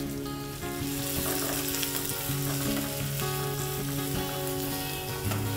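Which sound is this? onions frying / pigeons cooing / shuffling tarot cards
onions frying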